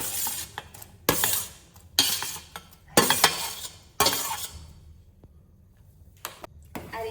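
Sweet potato sheera with added sugar being stirred in a pan, with a spoon scraping and clinking against the metal in several distinct bursts, close and fairly loud, separated by short quiet gaps.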